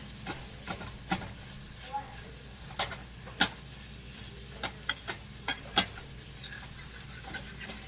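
A spoon scrapes the bottom of a pan of sausage gravy cooking over medium-high to high heat, with soft sizzling and sharp scattered scrapes and taps close by.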